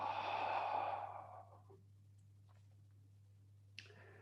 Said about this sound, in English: Take a breath in through your nose. Hold at the top. And open mouth, exhale.